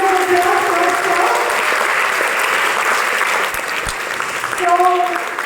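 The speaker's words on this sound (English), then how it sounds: "please give a big round of applause for sir" Audience applause at a school event, a steady wash of many hands clapping throughout, with a few voices faintly audible near the end.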